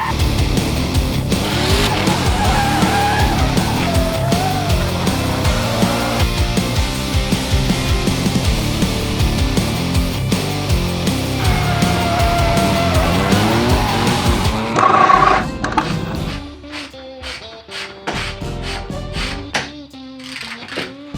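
A car drifts at a motor show in Bielsko-Biała, with continuous loud tire squeal and a revving engine that rise and fall for about fifteen seconds, then fade into quieter, more scattered engine and crowd noise.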